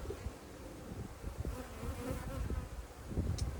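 Bees buzz steadily and up close during a check of a top bar hive, with a continuous droning hum that swells slightly and stays under no talk.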